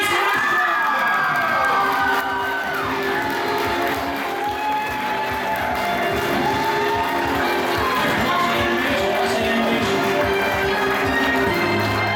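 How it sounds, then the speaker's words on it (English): A convention panel audience at an anime-style quiz game claps and cheers for a correct answer, a dense, sustained wash of applause, whoops and shouting voices filling the room throughout. "You can keep clapping."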